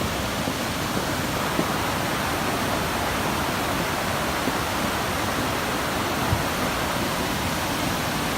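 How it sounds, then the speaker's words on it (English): Rushing California floodwater roars as a dense, continuous wash of broadband noise, loud and unbroken, with no distinct knocks of moving boulders standing out above it. "you can hear the boulders moving in the water"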